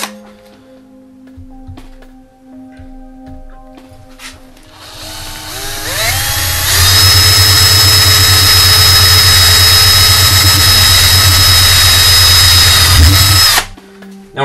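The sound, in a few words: drilling through a plate for an FPV wing build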